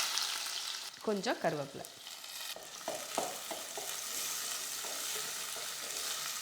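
Shallots and garlic fry with fenugreek and mustard seeds in hot oil for a puli kulambu, giving a steady close sizzle broken by a few scraping stirs, with a brief spoken remark.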